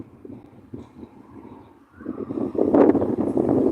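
Wind buffets a microphone outdoors by a river, a low rumbling roar that starts gentle and gusts much louder halfway through, with no clear voices over it.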